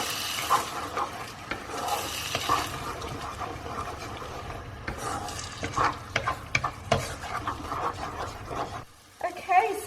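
Tomato cooking in oil in a pan for chickpea curry (channa masala), giving a steady sizzle broken by repeated stirring scrapes. Near and continuous, with a brief quiet moment close to the end.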